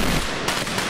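Dense, continuous crackle of pyrotechnics at Valencia's Las Fallas festival, a loud unbroken barrage of rapid bangs and pops that fills the whole moment with no pause.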